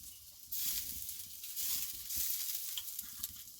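Wagyu beef tallow sizzles in a hot pan with steaks, a steady bright hiss that jumps up sharply as fat hits the surface and continues crackling close by with no talk.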